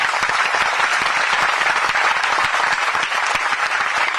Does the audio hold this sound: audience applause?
yes